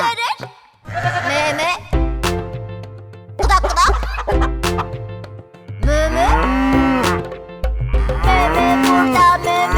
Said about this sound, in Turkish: İnekler nasıl ses çıkıyor?